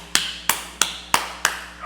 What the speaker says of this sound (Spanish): Y abajo la gente le aplaudió así.